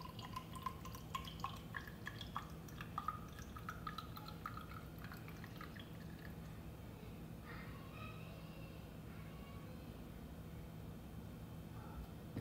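Pumped breast milk is poured into a bottle, a faint close trickle of small drips and splashes in the first half that fades into quiet room hum.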